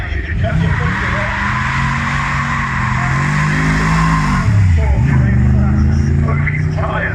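A Ford GT40 race car with a big front V8 on smooth tyres accelerates up the starting straight of the Kop Hill climb, a loud, close engine roar rising and falling through gear changes, with a voice talking over it.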